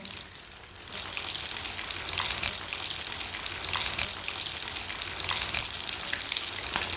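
Potato tikki patties frying in a pan of hot oil, a steady close sizzle with bright crackling and spitting that runs continuously and evenly throughout.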